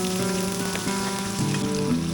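Chopped onion and ginger-garlic paste sizzle steadily in hot oil in a wok, a dense continuous crackling fry with brief stirring clatter, close and fairly loud throughout with no talk.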